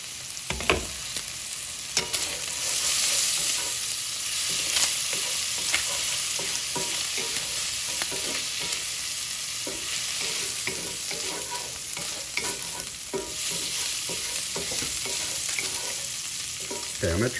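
Pre-cooked chicken and peppers frying in a hot pan for a chicken cheesesteak, a steady close sizzle with frequent scraping and stirring clicks throughout.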